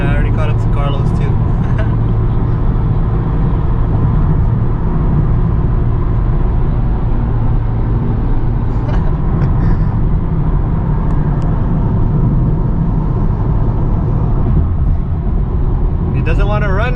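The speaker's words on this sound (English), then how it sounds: "that guy's car is too loud" Loud car at a car meet, its exhaust giving a constant heavy low rumble throughout, close and dominant, with no clear gaps or passes.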